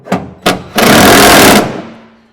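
A small power drill drives bolts into lock-boxes in a truck bed, with two short bursts followed by a longer whirring run of almost a second that then winds down, loud and close.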